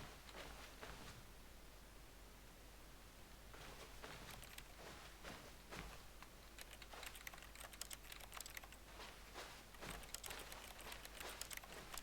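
Rapid computer keyboard key presses while playing The Stanley Parable, irregular clusters of close, crisp clicks over a faint steady hiss, with no talking.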